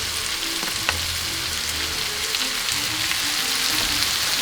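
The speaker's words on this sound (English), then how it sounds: "You really want to fry that tomato paste for just a couple minutes" Tomato paste frying with browned mushrooms and garlic for coq au vin: a steady, close sizzle with small crackles and pops throughout, no talking.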